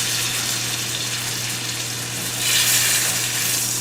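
Lamb chops sizzle steadily in a pan of butter, a close, continuous frying hiss that swells slightly partway through, with no voices.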